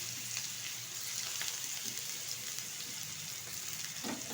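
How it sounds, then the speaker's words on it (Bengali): Onion paste frying in hot white oil in a kadai gives a steady, close sizzling hiss that stays even throughout, with a few faint clinks on top. "তেলের মধ্যে দিয়ে দিচ্ছি পেস্ট করে রাখা"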